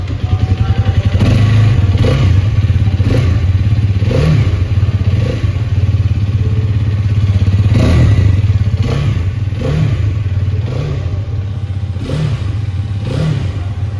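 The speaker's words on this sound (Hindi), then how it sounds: "तो कुछ इस तरीके का स्पोर्टी एग्जॉस्ट आपको इस बाइक का सुनने को मिल जाता है" A 2024 Hero Karizma XMR 210 motorcycle with a sporty exhaust idles with a steady low rumble, then revs repeatedly in short bursts, each throttle blip rising and falling over a constant loud drone.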